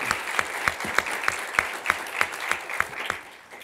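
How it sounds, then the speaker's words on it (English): Applause for panelists at a conference on migration, religion and national identity, with a rhythmic run of close, crisp claps over a bed of wider audience clapping that tapers off at the end. "Can we give a round of applause to our panelists?"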